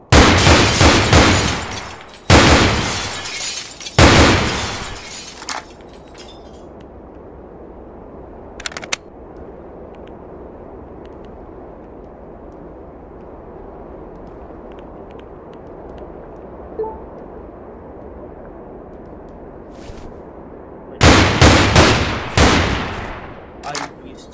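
Assault rifle gunfire in the Roblox game Blood Debt, loud rapid bursts at the start, a pause with low background rumble and one lone shot, then another sustained burst near the end.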